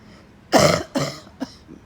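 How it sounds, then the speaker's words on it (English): Loud coughing from a person across the street, outdoors: two harsh, forceful coughs followed by a shorter, weaker third, with quiet street ambience between them. "Somebody across the street was coughing very loudly too."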